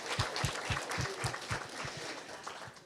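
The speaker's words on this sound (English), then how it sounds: "a big round of applause to Sidlin" A small audience at an international environmental health collaboration event claps in a quiet, fairly distant round of applause, individual hand claps audible in a loose steady rhythm.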